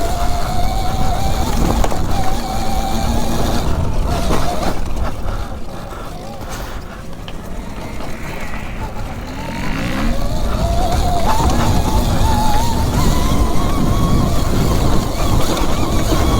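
An electric enduro bike is ridden around a lap, its motor giving a rising and falling whine over constant rushing wind and rumble, loud and close throughout.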